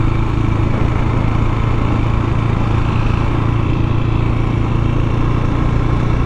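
A KTM motorcycle rides along with a continuous, even engine drone and rumble, loud and close throughout, with no break.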